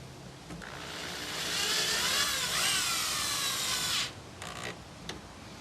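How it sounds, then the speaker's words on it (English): A power drill whines as it drives fasteners into an RV dump hose holder, rising to a steady high spin for about two seconds, then stopping, followed by a couple of short bursts. "grab your drill and you'll be done."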